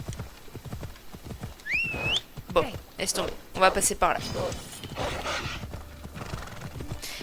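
Hooves clip-clop steadily from a horse in a video game, with a whinny rising over the rhythm, while someone speaks French throughout.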